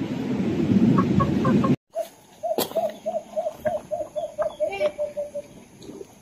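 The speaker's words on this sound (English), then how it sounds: "That's a wild chicken." A wild chicken in the mountains of San Antonio clucks in a quick run of repeated short calls, near and distinct, after a brief stretch of noisy outdoor background.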